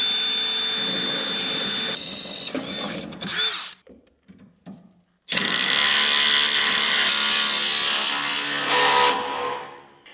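A power drill whines loudly in two long bursts, driving self-tapping screws close up into a 2024 Chevrolet Colorado ZR2 while installing air bags, separated by a pause with a few ratcheting clicks.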